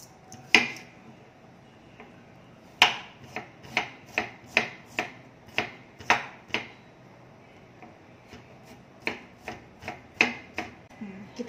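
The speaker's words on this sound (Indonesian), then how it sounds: "Dan untuk bawang putihnya ini, saya akan cincang halus" A kitchen knife finely minces garlic on a cutting board, with brisk, evenly spaced chopping taps in several bursts separated by short pauses, close and clear with no talking.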